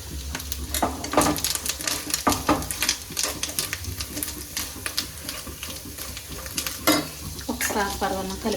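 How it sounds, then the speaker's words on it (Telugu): Milk payasam (paravannam) being stirred in a pot, with a spoon scraping and clinking against the metal in an irregular rhythm over a steady bubbling simmer, close and fairly loud, no talk. "ఒకసారి పరవాన్నం కలుపుతాను, కలపాలి."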